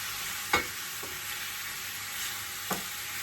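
Chicken pieces coated with turmeric fry in a pan with a soft, steady sizzle, broken by a few brief clatters or stirring knocks.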